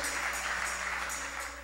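A church congregation claps during a worship service, producing a steady, moderately distant wash of applause that runs unbroken throughout, with no talking.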